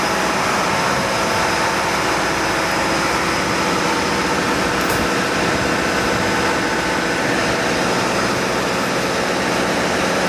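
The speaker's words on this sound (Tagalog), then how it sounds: "Ito ang main engine, dual engine guys, dalawang makina dito sa barkong to." A ship's engine room, home to twin main engines on the port and starboard sides, fills the air with a loud, unbroken drone of heavy machinery that holds steady throughout.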